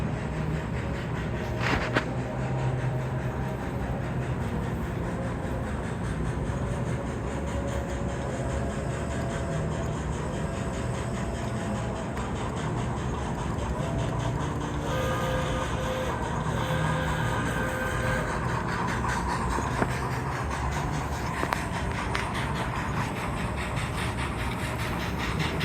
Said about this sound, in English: Sit here and we'll wait for the train to come across.